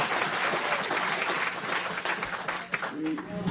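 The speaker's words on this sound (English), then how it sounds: "you can clap all you want to" Audience applause at a political gathering, a steady dense wash of clapping held for several seconds with some crowd noise mixed in.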